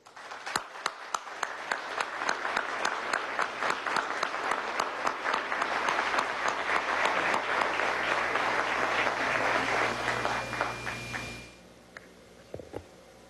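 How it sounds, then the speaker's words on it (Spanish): Sustained audience applause at a national journalism award ceremony in Venezuela, a dense wash of many hands clapping at steady loudness for about eleven seconds before dying away to scattered claps. "Recibamos a la licenciada Mercedes Chacín con un aplauso"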